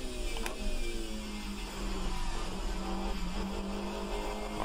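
A DTM 91 race car in the rFactor 2 racing game, a continuous engine drone easing under braking and building again, steady and mid-level without talk.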